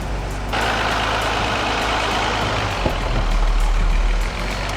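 A 1980s Mercedes car, run after ten years parked in a barn, idles loudly and close with a rough, steady engine drone, its tone shifting slightly midway with a brief knock, and no talk.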